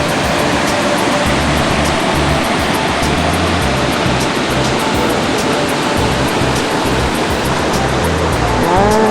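A constant roaring rush of a waterfall in the Carolina mountains, loud and close, holding steady without a break.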